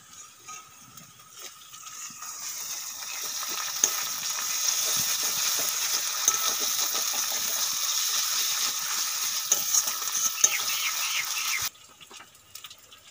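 Duck curry cooking in a pan with a ground paste of cumin, coriander and fennel, sizzling steadily while a spoon scrapes and stirs through it, the frying rising after a quieter start and cutting off near the end.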